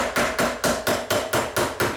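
Hammer pounding a metal aircraft rear rib over a plywood form block, eight sharp evenly spaced blows at close range, each ringing briefly before the next strike.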